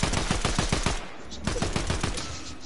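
Gunfire in Fortnite, a rapid string of sharp, close shots in quick succession, followed by a few more scattered cracks over a busy game background.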